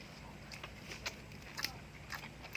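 Someone bites and chews crunchy fried chili with Thai chicken larb, quiet crisp crunches and wet chewing in irregular bursts, close to the mic.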